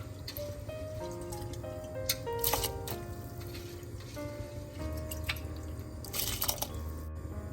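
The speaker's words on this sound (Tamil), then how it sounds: "நான் அரிசியை இதுக்கெல்லாம் சேர்க்க போகிறேன்." Rice tipped into a pot of boiling water for paneer biryani gives a few wet splashes and sloshing bursts over a steady bubbling bed, with background music throughout.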